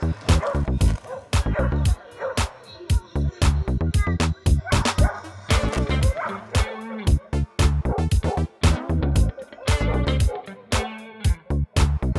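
A six-year-old German shepherd barks and yips repeatedly during an agility competition run, loud rapid barks in quick irregular bursts, close to the microphone throughout.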